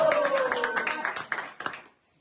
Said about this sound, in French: Quand même, applaudissements.